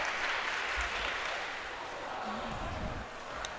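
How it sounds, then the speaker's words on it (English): Spectators clap at an outdoor track meet after a missed high jump attempt, a steady wash of applause from some distance with a few voices and low background rumble underneath. "If you heard the clapping behind us, the high jump was just missed."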